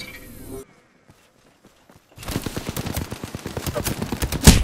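Rapid gunfire from an Apex Legends match during a four-team squad wipe, starting after a quiet stretch and building into dense, overlapping bursts of shots up close, with a loud blast at the end.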